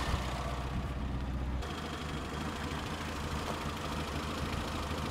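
An old, somewhat tatty car engine, just started with a hand crank, idles with a steady, slightly knocking low rumble that shifts tone briefly, moderately close with no talk.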